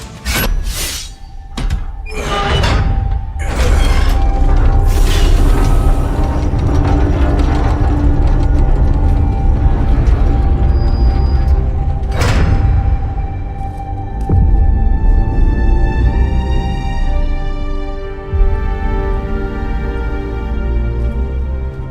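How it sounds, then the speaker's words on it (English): Old Enigma lock mechanism in the video game Marvel's Midnight Suns, heard as loud mechanical thunks and clanks with metallic ringing over a steady low rumble, with a few sharp impacts along the way. "Found your god killer. An old Enigma lock."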